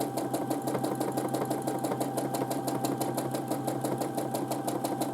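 A sewing machine stitches free motion quilting in back and forth lines, running with a fast, even mechanical chatter that stays steady and close throughout.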